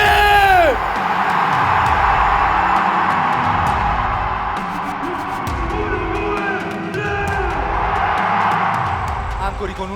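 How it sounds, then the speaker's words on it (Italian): A live motivational seminar audience in Italy yells and cheers together in a loud, sustained roar that fills the whole stretch, swelling at the start and again near the end, with scattered whoops over a dense crowd din. "con un urlo pazzesco"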